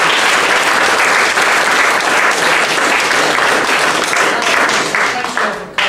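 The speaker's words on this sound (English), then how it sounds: "So I'd like you to give them a round of applause" Audience applause ringing out at the close of a live public debate: dense, sustained clapping from a sizable crowd, steady and loud for about six seconds before tapering off at the very end.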